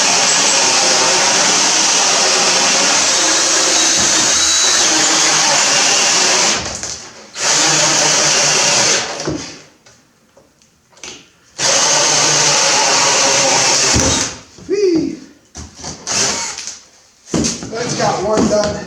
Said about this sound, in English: We're going to use our same piece of wood we used. We're going to drill a couple holes.